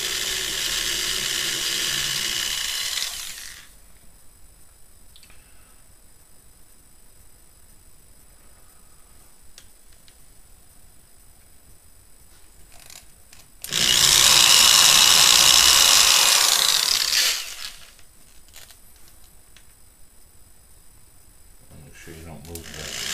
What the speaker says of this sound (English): Just use a very tiny drill bit with a piece of tape on here to mark my depth.